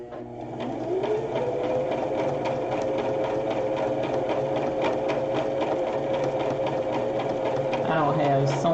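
An embroidery-threaded sewing machine stitches a rope bowl, whirring steadily and loudly for the full stretch, with a brief slowdown near the end.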